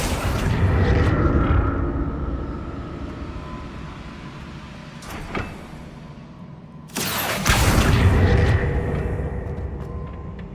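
A Confringo blasting spell explodes in Hogwarts Legacy: a loud, rumbling blast that swells and fades, a brief crack partway through, then a second heavy burst that roars on amid a steady game-ambience drone.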